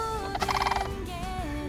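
A flock of large fowl, likely turkeys, gobble in a loud rapid rattling burst close by, followed by tonal calls.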